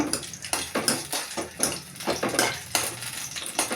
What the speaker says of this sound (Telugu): చూడండి పచ్చిమిరకాయలు వేగుతున్నాయి